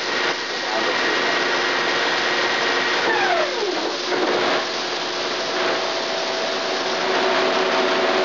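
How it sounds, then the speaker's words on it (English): Mori-Seiki SL-5A heavy-duty CNC turning center shifting its spindle from the 1200 RPM range down to 300 RPM: a loud, steady machine roar with a tonal whine that slides downward in pitch partway through, then settles lower. "that was a gear change down to 300 RPM"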